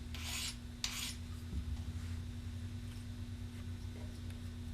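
A hand file rasps across the blade of a steel two-blade archery broadhead in two short strokes, then light rubbing and faint handling follow. The sound is close and quiet, with a low steady hum underneath and no talk.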